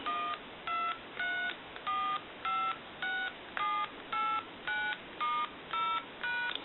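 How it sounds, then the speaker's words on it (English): Dialing tones from a Pepsi Cola novelty telephone under repair, heard as about ten evenly spaced, clear beeps of varying pitch, each short and steady, played close and alone. "we'll go ahead and dial our numbers out"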